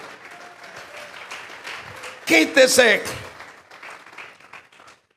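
A church congregation breaks into a short, loud burst of clapping during a Spanish-language sermon, rising for about a second while the preacher keeps speaking over the room.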